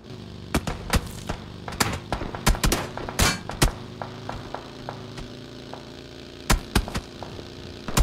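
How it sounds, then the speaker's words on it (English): Gunfire cracks across a PUBG battle royale match, many irregular shots, some in quick clusters and others isolated, loud and sharp over a steady low engine-like drone. "Gunshots everywhere."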